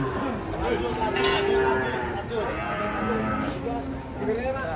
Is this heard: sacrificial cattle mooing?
yes